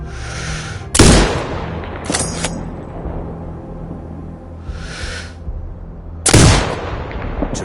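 Heavy rifle shots from the video game Sniper Ghost Warrior Contracts 2 ring out, several sharp loud cracks spaced a few seconds apart, each followed by a rumbling tail and echo, with no speech.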